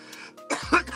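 Coughing indoors during a smoking session, with a couple of harsh bursts after a throat-clearing sound, close and moderately loud.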